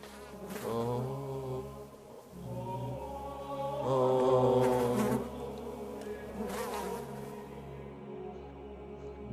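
A fly buzzes steadily and fairly close, its drone rising and falling in pitch for several seconds in a quiet room, with no one speaking.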